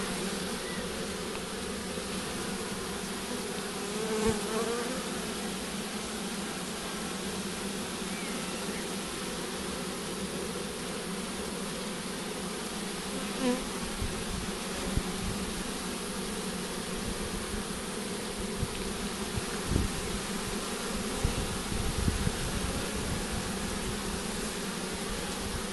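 A dense, steady hum of many bees buzzing close by in a hive around their queen, continuous and droning with no voices.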